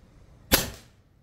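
A single sharp crack from an air rifle shot at a shooting range, close and abrupt, with a brief trailing decay into near silence.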